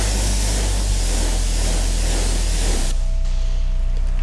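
Water sprays steadily and loudly onto Cadillac wheels during a detailing rinse, a dense hiss that cuts off sharply near the end and leaves a quieter steady hum.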